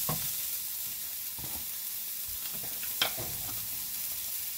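Chicken stir-frying with ginger in a pan that is sticking a little, giving a steady close sizzle broken by scraping stirs and one sharp clack near the end.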